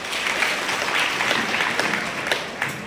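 An audience at an ashram gathering claps to welcome Geeta Didiben, a steady patter of hand claps holding at moderate level for a few seconds with little voice over it.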